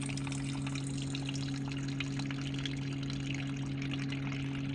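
Water pouring out of a truck's diesel fuel tank, a constant splashing gush with a steady low hum beneath it, close and unbroken, no voices.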